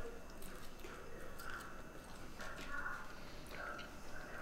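Biting and chewing a crunchy homemade Roman-style pizza crust, with close, soft crunches and chewing noises repeating over a few seconds at low level.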